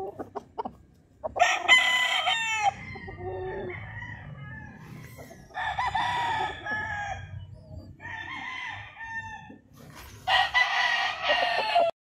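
Roosters on a large chicken farm crow loudly in repeated bursts, with hens clucking and murmuring between the calls, several birds close by and others further off.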